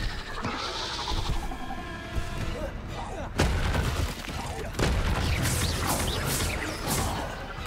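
Fiery Confringo spell blasts burst in the Hogwarts Legacy video game, heavy booms and crackling impacts rolling over one another amid chaotic combat noise, with a voice speaking over it.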